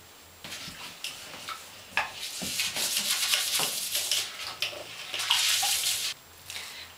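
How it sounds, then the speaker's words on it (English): A toilet bowl brush scrubs around the inside of a wet toilet bowl in quick, uneven bursts of swishing and sloshing, close and fairly soft, with no talking. "Now take your toilet bowl brush and clean the insides as best as you can."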